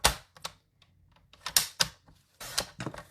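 A sheet of designer paper for a handmade card being cut down by two inches on a paper trimmer, a series of sharp clicks and short slicing sounds in a quiet room.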